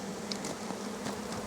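Honeybees swarm around an opened hive box, with some fallen onto the ground, filling the air with a dense, steady, close buzzing hum that never lets up.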